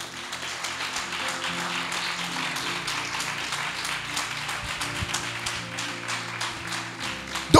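A congregation applauds the Lord at a French-language church service, a dense and steady wash of many hands clapping that keeps up throughout, with a louder burst at the very end.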